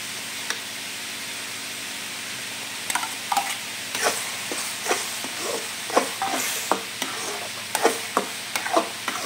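Mustard seeds and ground spices hit hot oil in a pan, producing a steady hiss with scattered crisp pops and crackles that grow busier midway, close and moderately loud with no voices.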